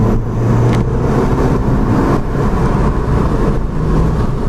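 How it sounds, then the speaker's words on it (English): A 2014 Nissan Juke Nismo accelerates flat out along a race track straight, its engine a loud, dense, steady roar with no speech heard. "I'm on the back stretch. I've got it floored."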